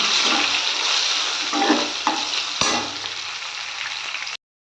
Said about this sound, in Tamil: இந்த டைமில் பெருங்காயம், கறிவேப்பிலை, பச்சை மிளகாய் 2 இதெல்லாம் வணக்கி விட்டுக்கலாம்